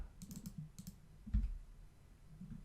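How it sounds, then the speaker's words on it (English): Quiet key presses on a computer keyboard sound as a few soft, scattered clicks against low background hum, including one slightly louder press. "if I just press H on my keyboard"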